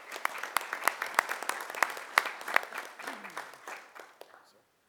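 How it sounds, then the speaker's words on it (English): An audience at a public meeting applauds a Marine veteran being recognized, producing brisk clapping with distinct sharp hand claps that fades out near the end. "let's give him a round of applause"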